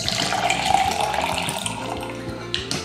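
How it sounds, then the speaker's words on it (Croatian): Water is poured, about 150 ml, into 3 to 4 small spoonfuls of powdered drink mix, a steady close splashing stream that runs for the whole stretch without speech. "u 3 do 4 male kašičice dodate 150 ml vode"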